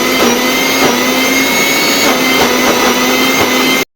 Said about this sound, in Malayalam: അപ്പം അടിച്ചു കൊടുക്കട്ടെ.